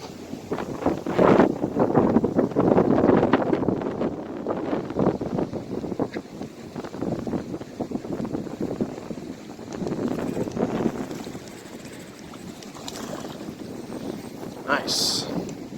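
Gusty wind buffets the microphone while fishing after a tropical storm, loud rumbling bursts that rise and fall throughout, with voices talking faintly beneath it.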